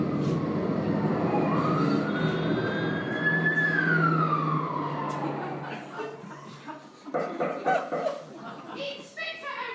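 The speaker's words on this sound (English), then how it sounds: "I can hear Inspector O'Reilly's police car approaching." A police car siren with a rising and falling wail sweeps loudly over a heavy rumbling background as it approaches, then fades as scattered clatter and indistinct voices take over.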